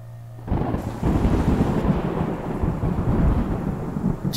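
A loud nighttime thunderstorm near a hospital, with a sudden crack of thunder swelling into a long rumbling roll over steady rain, with no talk.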